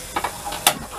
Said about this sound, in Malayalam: കുക്കറിൽ ഒരു 2 വിസിൽ അടുപ്പിക്കുന്നുണ്ട് ഞാൻ